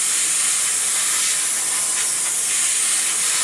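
Steady hissing spray of water blown through an airbrush during cleaning, a continuous close, bright airy stream holding even from start to end with no talk.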